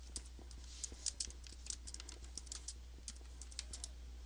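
Light, quick clicking of a computer keyboard while a Google search is typed, a steady scatter of soft close keystrokes over a low constant hum, with no talking.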